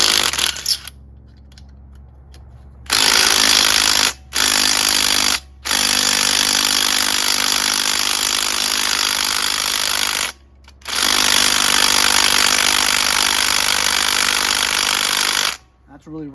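A power tool loosens a rusted 10mm muffler bolt on a snowblower, running in loud rattling bursts. Short pauses break up the runs, and a long run fills the middle.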